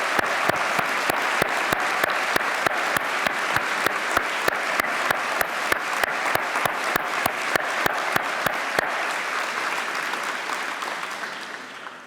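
A large graduation audience at Ravensbourne University London's Design School ceremony breaks into a steady, dense round of applause with a few sharp claps standing out, sustained throughout before slowly tapering off at the end.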